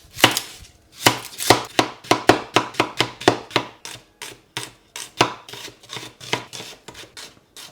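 A knife thinly slices one or two red or white onions on a board, giving a quick run of sharp, close chopping taps at an uneven rhythm, with no voices.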